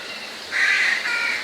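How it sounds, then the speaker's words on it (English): A crow caws outdoors on a bright morning, one drawn-out harsh call standing out clearly over a quiet background hiss with no voices. "As you can hear, it's the birds here."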